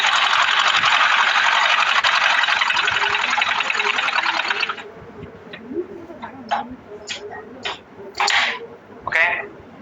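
A sewing machine runs a continuous, close, buzzing stitch along a kameez-style seam for about five seconds, then stops, and quieter handling noises and short rustles follow.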